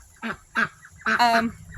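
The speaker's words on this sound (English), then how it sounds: "My birds are fighting over an egg right now" Pet quail or gamebirds squabble over an egg, giving a few loud, harsh honking calls in quick succession, close by, with no talking.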